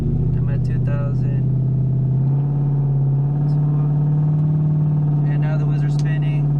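A 2004 Mustang GT V8 with a Roadrunner torque converter holds steady revs at stall, a loud, deep, constant engine drone with a slight rise partway through, while someone talks over it.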